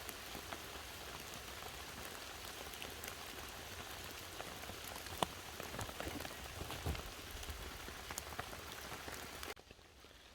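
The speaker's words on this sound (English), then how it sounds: "It's still raining." Heavy rain patters steadily on a tarp in a forest, a dense, close drumming with scattered louder drips, fading abruptly near the end; no voices.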